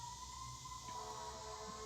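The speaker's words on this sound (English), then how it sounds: "Sorry for the sirens outside." A distant siren wails faintly with a steady rising tone, heard through a quiet indoor room.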